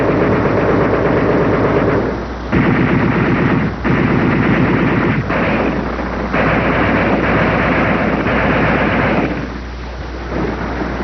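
German machine guns of 1914 Flanders fire on advancing troops in old, narrow-band archival sound: loud, sustained rattling bursts broken by a few brief pauses, with no voices.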